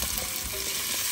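Onions caramelizing in a soup pot while being stirred, a brief steady hiss of frying with soft scraping, close and even throughout.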